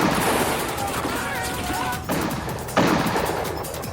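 Colonial troops fire rifle volleys into dense bush during the New Zealand Wars, heard as a few sharp, crashing bursts of gunfire over a rumbling background, with a voice speaking.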